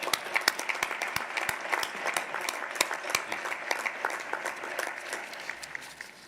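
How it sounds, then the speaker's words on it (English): A commencement crowd at a 2021 undergraduate graduation gives moderately loud applause, with individual sharp claps standing out in the mix before it thins and begins to trail off near the end. "let's give them a round of applause as well."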